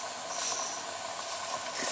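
A Jensen 55 DIY Deluxe model toy steam engine with twin cylinders runs on live steam, giving a steady close hiss with a faint rapid chuffing texture throughout.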